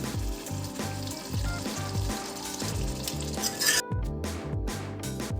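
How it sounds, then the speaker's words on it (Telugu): Cucumber seed and poppy seed paste frying in an iron kadai, a soft ongoing sizzle with occasional metallic clinks of a utensil against the pan, partly under background music. "ఐరన్ కడాయి కాబట్టి బాగా ఫ్రై చేస్తూనే ఉండాలి"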